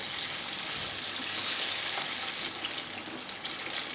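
Oats banana fritters (pazhampori) frying in hot oil give a steady, loud, close-up hiss and crackle that holds evenly throughout with no talking.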